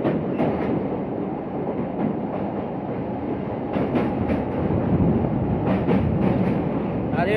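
Train rolling across the historic Nasipur rail bridge over the Bhagirathi river, a steady loud rumble of wheels with repeated clattering rail-joint clicks throughout.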